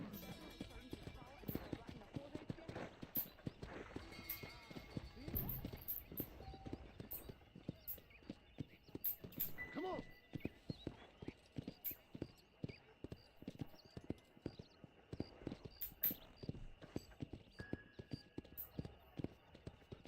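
Horse hooves clip-clop steadily through a Red Dead Redemption game scene, a quick regular patter of hoofbeats running the whole way, with game ambience and a voice talking over it.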